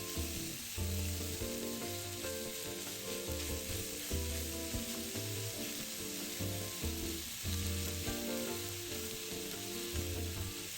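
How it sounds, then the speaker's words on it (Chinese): Chicken stir-fried in a wok with black pepper, a continuous hiss of frying under repeated rhythmic scraping and tossing strokes of a spatula, close and steady throughout with no speech. "炒至鸡肉色泽转白后，"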